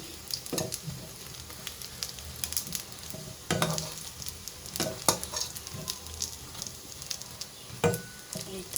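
Prawn and red lentil fritters fry in hot oil with a continuous bubbling sizzle and scattered crackles and pops, plus a few louder clinks of a utensil against the pan.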